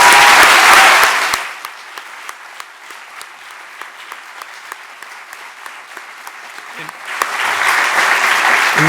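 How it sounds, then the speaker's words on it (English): An audience at a student exoneration showcase breaks into loud applause that fades into scattered claps, then swells again into a fuller round near the end. "How about a huge round of applause for what these students have done in one semester?"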